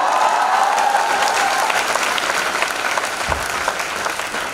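An audience at a motivational talk breaks into loud, sustained applause, many hands clapping densely and steadily for several seconds with no voices over it.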